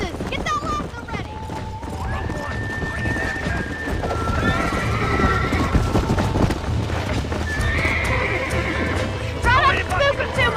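Horses whinny repeatedly while hooves gallop in the Western game Red Dead Redemption, loud neighs rising over a dense thudding rhythm, with voices talking in the background.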